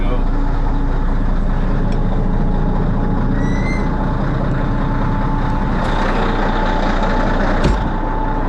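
A heavy road-building vehicle's diesel engine idles steadily in cold weather, a loud continuous rumble with a few short high beeps and hisses over it.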